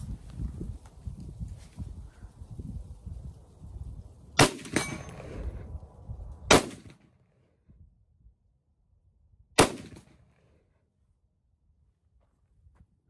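American Tactical Omni Hybrid AR-15 rifle firing from its factory American Tactical magazine, three sharp, widely spaced shots heard from a distance, with rustling and shuffling between them and quiet after the last.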